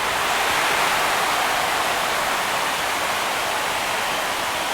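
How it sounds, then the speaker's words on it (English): A stadium crowd roars without pause at a Nationals vs. Marlins MLB game after a deep home run to left field. The cheering is loud, dense and sustained, like a wall of noise with no break. "This crowd is on fire right now."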